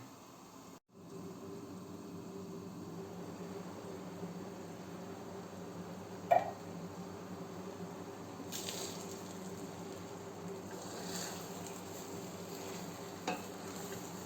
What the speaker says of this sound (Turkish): kapağını açıp hem baharatını koyacağım hem karıştıracağım